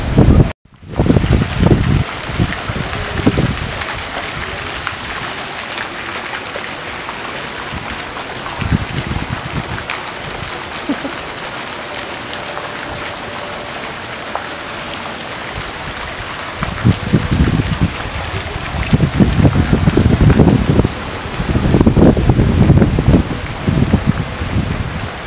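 Gusty wind blowing outdoors at a tropical plantation on Maui ahead of incoming rain, rumbling across the microphone in loud bursts at the start and again near the end, with a quieter steady stretch between.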